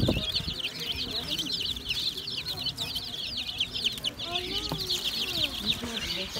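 Dense, continuous high-pitched peeping of many chicks in a pet shop, chirping rapidly and overlapping throughout, with some low background noise.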